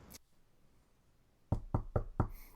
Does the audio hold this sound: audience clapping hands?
no